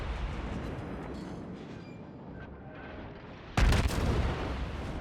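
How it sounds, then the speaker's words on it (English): Cruiser armor-piercing shells fired in World of Warships: a low rumbling battle ambience, then one sudden loud booming broadside near the end that keeps roaring afterward, with no talking. "For some reason I am firing AP."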